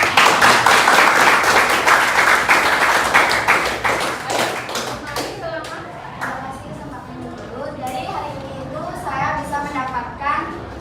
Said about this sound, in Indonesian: Baik, ini tepuk tangan ya.